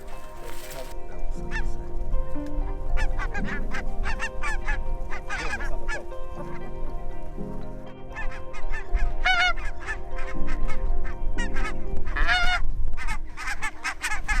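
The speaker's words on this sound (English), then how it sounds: "So we've just had a few geese come over. Unfortunately we couldn't shoot them because they're protected, they're barnacle geese" A small flock of barnacle geese honks as it passes overhead in Aberdeen, with repeated overlapping calls at a steady moderate level and a low continuous rumble underneath.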